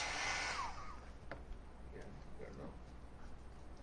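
A handheld heat tool blows hot air over a stamped card being heat-embossed, a steady whooshing hiss loudest at the start and then fading lower, with faint clicks and handling sounds.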